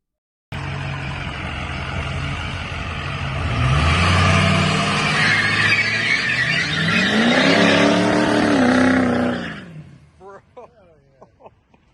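A 1959 Ford F100 pickup with a swapped 6.0 Powerstroke diesel engine roars loudly and climbs through a hard rev, holding a heavy, sustained drone before it cuts off, leaving brief faint sounds.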